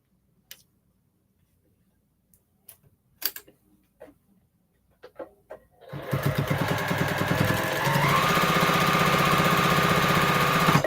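A sewing machine runs fast while quilting, starting after a few scattered ticks and taps and then holding a loud, continuous rapid mechanical whir through the second half.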